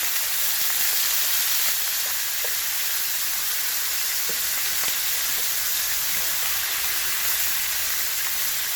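About two pounds of shrimp and garlic sauté in a hot pan with a continuous, loud, even sizzle and hiss, broken by small pops and crackles.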